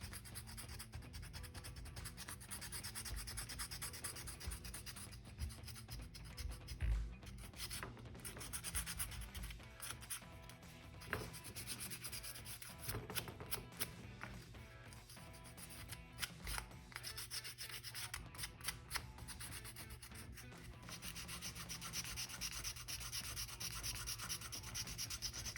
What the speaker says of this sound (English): you can grab sandpaper and just smooth it out